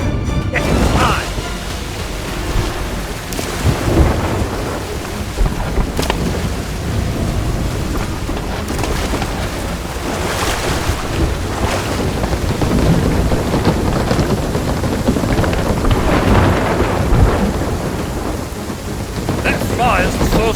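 A thunderstorm with lightning in the Sea of Thieves game: heavy rain and rumbling thunder roll continuously and loudly, with bursts of cracking and talk heard over the storm.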